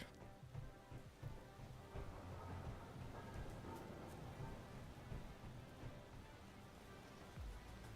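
Steady thunderstorm rain in the video game Space Engineers, a continuous faint wash of rainfall with low rumbling underneath, no speech.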